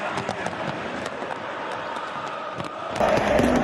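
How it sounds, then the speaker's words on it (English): Fireworks crackle and pop repeatedly at a football ground before a match, mixed into steady crowd noise with a rising roar toward the end. "Because those are the official fireworks."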